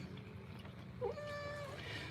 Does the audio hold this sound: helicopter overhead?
no